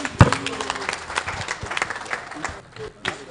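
An audience at an old boys' association convention for St. Charles' Grammar School claps for a chairman, with scattered applause and crowd noise under a voice speaking over a microphone.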